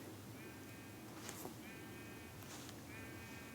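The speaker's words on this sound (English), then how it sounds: "See the sheep right there?" Three evenly spaced bleats from a sheep in Minecraft Pocket Edition, a thin synthetic bleating repeated over a low steady background hiss.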